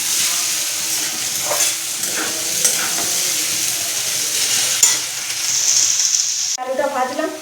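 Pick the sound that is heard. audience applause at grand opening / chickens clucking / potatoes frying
potatoes frying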